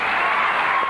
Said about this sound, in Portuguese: Muitas palmas para ele.